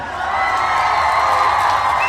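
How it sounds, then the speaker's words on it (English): A crowd cheers and applauds for the Ujima group in a steady, loud wash of whoops and clapping that holds for the whole stretch. "I want to give all the Ujima born a round of applause"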